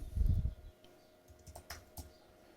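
Keyboard typing on a computer while a group name is edited in solar design software, a brief loud burst of key clatter at the start followed by a few faint scattered keystrokes.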